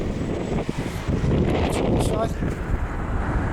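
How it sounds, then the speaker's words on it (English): Heavy wind buffets the microphone outdoors in Dover with a constant low rumble, and faint voices are partly buried beneath it. "sorry again about the wind"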